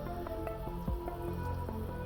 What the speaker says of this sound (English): You see it bubbling on the side right here?